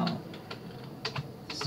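Bangla text is being typed on a computer keyboard, producing a quiet handful of separate key clicks over under two seconds, heard close.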